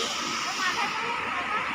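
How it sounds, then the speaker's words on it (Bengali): Krang Shuri waterfall in Meghalaya, water plunging from a height, heard as a steady, loud broadband roar with no breaks, close by. "অত উঁচু থেকে যে জলটা পড়ছে তার যেমন একটা তীব্র আওয়াজ"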